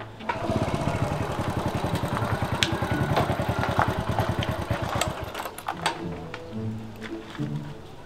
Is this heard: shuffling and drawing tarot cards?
no